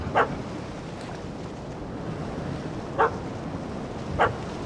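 A puppy in The Witcher 3: Hearts of Stone gives three short, sharp barks spaced a second or more apart, set against a steady wash of ambient game background noise, with no talking.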